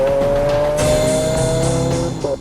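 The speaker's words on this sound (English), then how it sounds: "Now I've got the Aventador on the track finally" A Lamborghini Aventador S on a race track at speed, its loud, steady engine note close by with a sharp tire squeal as it corners.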